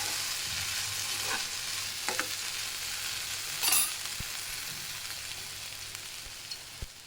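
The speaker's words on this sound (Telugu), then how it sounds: "కొంచెం కరివేపాకు వేసి ఇలా ఫ్రై చేయాలి" Potatoes and curry leaves sizzle in oil in a pan, a steady close crackle with occasional spatula scrapes and a brief louder spit midway, no voices.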